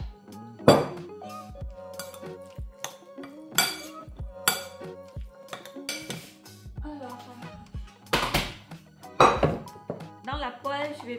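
Metal utensil stirring in a cooking pan during home meal prep, giving scattered clinks and scrapes at irregular intervals, close by, with a person talking between them.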